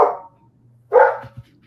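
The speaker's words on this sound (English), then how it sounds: "I have no clue what just triggered that dog." A dog barks twice indoors, a nearby sharp bark followed by a second louder one, then a couple of soft thumps over a low background hum.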